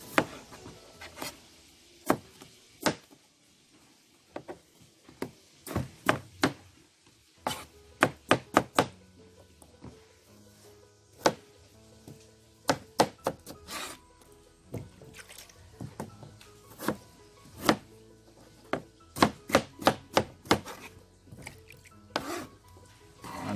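Meat for Jamaican mannish water is cut into chunks, with sharp knife chops landing in irregular clusters, some quick runs of strikes, close and fairly crisp against a quiet kitchen.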